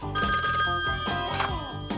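An old-style telephone bell rings loudly in a Canadian children's safety public service announcement, with repeated rapid trilling bursts against a musical background.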